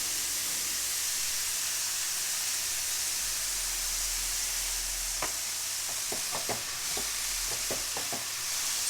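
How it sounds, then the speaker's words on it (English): Mushrooms and other vegetables stir-fry in a pan with a loud, steady hissing sizzle. A run of sharp utensil scrapes and taps against the pan starts near the end. "So we're going to stir fry this until the mushroom has softened."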